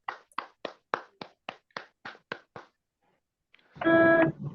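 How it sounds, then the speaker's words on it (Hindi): About ten crisp, evenly spaced claps in a steady rhythm during an RCM business session. They stop, and after a short silence a loud electronic beep tone sounds. "एक बार जोरदार ताली होना चाहिए।"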